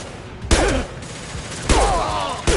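Gunfire in the Mass Effect Legendary Edition video game: loud, close shots crack in sharp bursts about a second apart, with a voice calling out under the firing.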